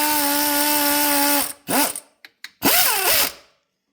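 Power tool driving a bolt on the alternator bracket of a 1992 Ford F-250 with a 7.5L engine: a loud steady whine of over a second, then several short bursts that rise and fall in pitch as the bolt seats.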